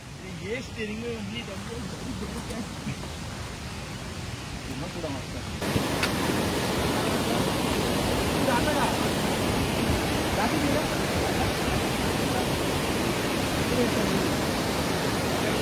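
The Kalu waterfall at Malshej Ghat gives a dense, steady roar that swells suddenly partway through and then stays loud and unbroken. Voices are faint near the start.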